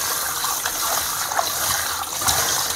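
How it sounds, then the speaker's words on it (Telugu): Tap water gushes and splashes steadily as raw chicken pieces are washed in a home kitchen, a continuous close rush of running water. "వాటర్ క్లీన్గా వచ్చేదాకా మనము చికెన్ పీసెస్ని వాష్ చేసుకోవాలి."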